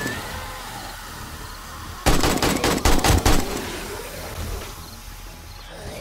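A rapid burst of gunfire in the video game 7 Days to Die, loud close shots cracking in quick succession for about a second, then fading into quieter game ambience.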